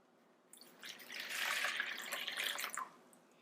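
Warm water pours into a bowl holding yeast and sugar, a soft splashing trickle that swells for about two seconds at close range and then tapers off.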